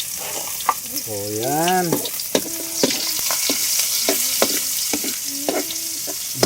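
Chopped onions go into hot oil and fry with a loud, steady sizzle while being stirred, with occasional utensil clinks and a voice speaking briefly over the crackling.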